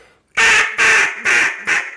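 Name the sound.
RNT DC Mondo duck call blown hard, quacking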